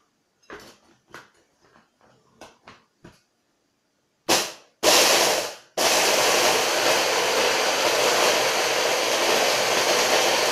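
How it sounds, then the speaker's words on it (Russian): Blender crushing biscuits for a no-bake chocolate "potato" cake, starting with several short clicks and bursts, then two loud pulses and a steady, loud, continuous grinding whir to the end. "Для начала необходимо печенье измельчить в блендере."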